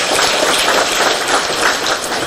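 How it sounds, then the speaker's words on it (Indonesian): Loud, sustained applause from an audience of about 250 people gathered to welcome the Governor of DKI Jakarta, a dense wash of clapping throughout. "Tepuk tangan."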